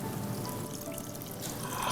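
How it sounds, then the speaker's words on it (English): Tamarind juice poured into a simmering gravy for Nyonya assam fish, a steady close liquid pour with a soft splashing trickle running throughout, no voices. "we will add our tamarind juice. We will stir and then pour."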